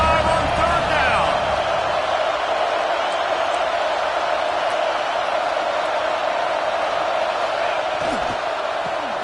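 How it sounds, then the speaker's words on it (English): Buckeye football stadium crowd roars in a steady, loud, sustained wash of cheering on a 3rd down, with an announcer's voice running over it throughout. "The Buckeye crowd alive on 3rd down."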